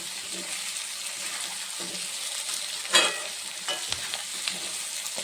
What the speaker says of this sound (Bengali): এইদিকে আলু পেঁয়াজ ভাজা হয়ে গেছে